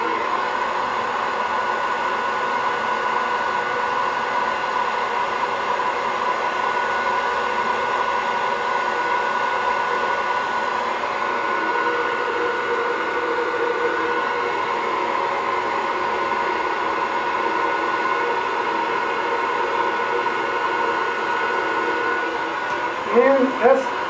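A blow dryer blasts steadily while drying and styling a beard: a loud, continuous, close whirring rush lasting throughout, with a few faint clicks at the very end.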